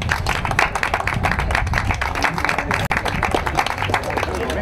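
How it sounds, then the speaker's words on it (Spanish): A crowd applauds the New Jersey Soccer Club at its second showcase event, with dense, steady clapping that carries through the whole stretch at a moderate level. "Un fuerte aplauso para el club"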